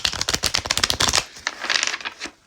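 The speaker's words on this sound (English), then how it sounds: "let's shuffle the deck" Rapid, dense riffling of cards flutters close up for about a second, then a shorter second riffle follows, crisp and papery.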